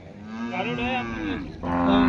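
A cow moos in a long, drawn-out low call that wavers in pitch, then a second moo begins, close and loud, at a livestock show.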